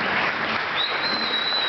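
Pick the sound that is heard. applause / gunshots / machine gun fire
applause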